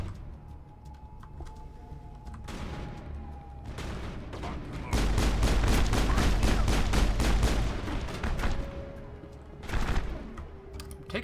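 Mass Effect gunfire, steady rapid bursts building to a loud sustained volley in the middle, then scattered shots later with no talk over them.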